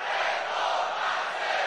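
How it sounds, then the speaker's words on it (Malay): A large crowd cheers at a nighttime political rally in Selangor, a loud sustained roar of massed voices, distant and unbroken. "Malam ini saya rindu sorakan ini"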